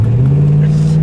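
A 1971 Pontiac LeMans GT 37 tribute cruising down the road, its engine droning as a steady low hum throughout, heard from inside the car with a voice talking over it.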